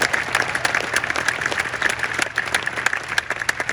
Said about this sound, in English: So let's give her a great big round of applause.